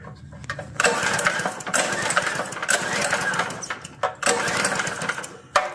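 A motorbike engine with a dry cylinder and no fuel reaching the spark plug hole is cranked over without starting. It gives a continuous, fairly loud churning whir, broken by a few brief pauses, with no firing.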